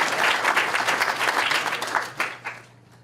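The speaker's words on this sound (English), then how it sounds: "Let's give them a round of applause." Sustained, dense applause from a hackathon opening-ceremony crowd for a sponsor, clapping steadily before tapering and fading out toward the end.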